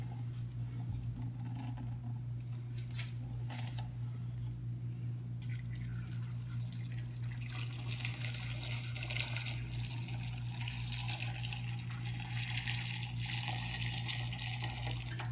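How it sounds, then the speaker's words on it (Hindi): Water poured into a pressure cooker holding beef with salt and turmeric, a continuous splashing and filling sound building over many seconds, fairly faint over a steady low hum, with no talk. "अब इसमें पानी ऐड करेंगे।"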